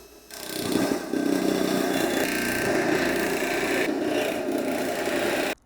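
A skill saw cutting a metal box downspout, its motor starting abruptly and holding a loud, steady whining buzz for about five seconds before cutting off, up close with no talking.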